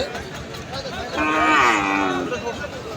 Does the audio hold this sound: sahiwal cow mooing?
yes